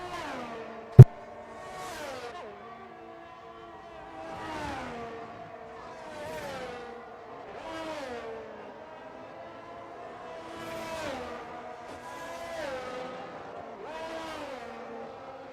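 F1 race cars lapping the Miami circuit in a PlayStation racing game, engines rising and falling in repeated pitch sweeps as cars pass one after another, with one sharp click near the start and faint commentary underneath.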